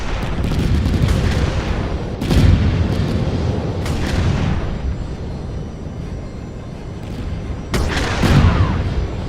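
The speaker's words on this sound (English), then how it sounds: "Explosion sound is so satisfying." Booming explosions from a Mecha Knights raid in a video game, several heavy blasts at intervals over a constant roaring rumble, loud and close.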